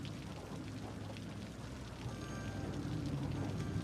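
Steady rainfall in the Cities: Skylines city-building game, a dense, even hiss of falling rain that stays constant and slightly swells toward the end, with no voices.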